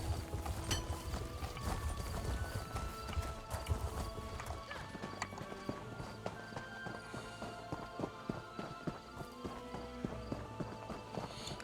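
Horses clip-clop steadily through Elder Scrolls Online as fellow riders approach, hooves thudding continuously under a busy game soundtrack, with an occasional whinny.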